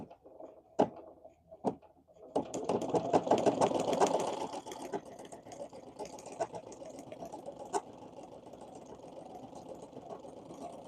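An embroidery machine stitches an anime cherry blossom design, giving a steady, fairly quiet mechanical whir with rapid needle chatter and occasional sharp clicks, with no voices present.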